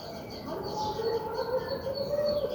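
A pet pigeon being shown off, giving a soft low coo that blends with a faint hum over about two seconds.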